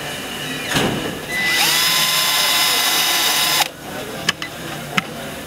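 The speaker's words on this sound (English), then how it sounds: "take a 3/16 drill bit and drill through the holes on the foot rail through the slider" A power drill with a 3/16 bit whirs steadily for a couple of seconds through a kayak foot rail and slider, then stops, followed by a few sharp clicks and knocks.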